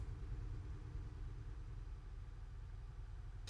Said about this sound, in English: Volvo engine has changed as well